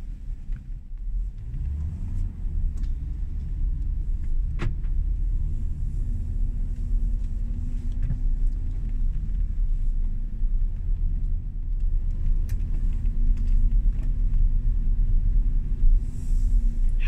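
A car driving along steadily, giving a low, continuous cabin rumble with faint road noise and a few small clicks, heard from inside the vehicle.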